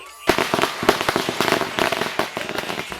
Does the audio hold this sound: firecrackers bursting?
yes